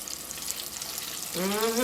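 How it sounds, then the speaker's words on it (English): Catfish frying in hot oil in a home kitchen, a soft steady sizzle that grows louder and brighter near the end, with no talking over it. "You can tell when something's done frying because you don't hear it cooking anymore."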